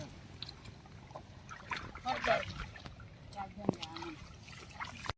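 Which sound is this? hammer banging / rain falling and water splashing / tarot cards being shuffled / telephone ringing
rain falling and water splashing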